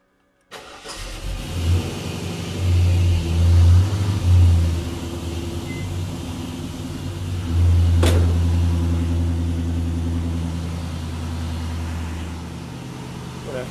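A car engine fitted with new AN fittings and hose cranks briefly, then catches and settles into a loud, steady low idle close by, with a couple of surges in revs.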